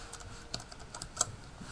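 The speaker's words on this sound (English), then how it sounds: "typing in here" Typing on a computer keyboard, a quick run of soft, close key clicks with slightly irregular rhythm and one sharper tap near the end.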